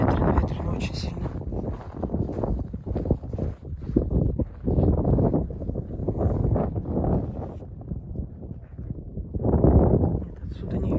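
Strong wind buffets the microphone outdoors near a ruined cathedral and bell tower, gusting as loud rumbling bursts throughout, with a person talking over it.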